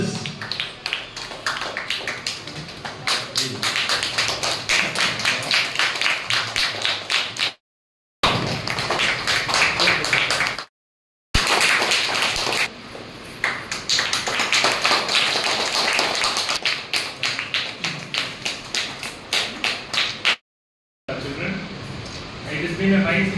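Students clapping at a school prize-giving ceremony, a steady run of dense applause that fills most of the span, broken by a few short gaps, with speech mixed in.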